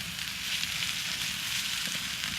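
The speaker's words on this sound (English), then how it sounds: "We're just gonna saute that down." Butter sizzling steadily as it sautés in a pan, a close, continuous hiss and fine crackle with no voices.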